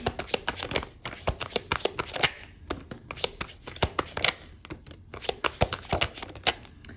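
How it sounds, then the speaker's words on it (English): A deck of tarot cards being shuffled up close, with quick bursts of riffling and snapping repeated steadily, no voices. "let's shuffle some more tarot cards for you"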